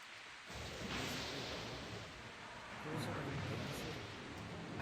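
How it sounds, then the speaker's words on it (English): Steady rain with rumbling thunder swells in the horror video game Corpse Party, a dense hiss that rises after a quiet start and surges again midway, with a voice faintly underneath. "I can't hear you over the rain."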